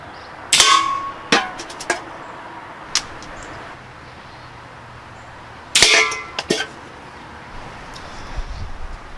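An Umarex Browning Buck Mark pistol fires hollow points at cans outdoors, two separate bursts of sharp cracks and metallic clangs with quiet gaps between them.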